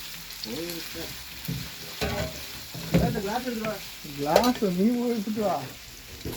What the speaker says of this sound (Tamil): வெங்காயம் பச்சை மிளகா நல்லா வெங்காயம் வதங்கட்டும் கிண்டி விட்டுருக்காங்க